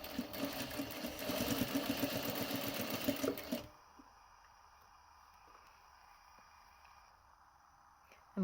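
A sewing machine stitching down the edge of fabric for a paper bag pocket, running in a steady rapid whir for about three and a half seconds before stopping, followed by quiet room tone.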